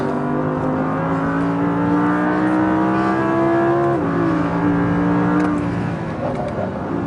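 Sports car at full throttle on a race track lap, engine note climbing steadily through the gears with a shift around the midpoint, loud and continuous from inside the car.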